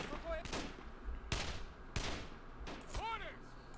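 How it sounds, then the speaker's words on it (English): Sporadic gunfire in the Men of War: Assault Squad 2 video game, the shots coming from trenches: several sharp reports spaced out over a few seconds, with a brief whistling tone near the end, all over a steady battlefield background. "the resistance is just sporadic gunfire from the first line of trenches"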